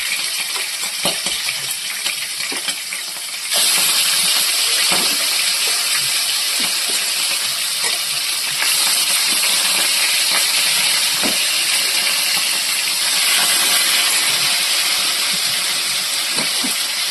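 Washed chicken fries in a little oil in a pan, giving a loud, continuous broadband hiss that jumps up sharply a few seconds in and then holds steady, with scattered small crackles and no talking.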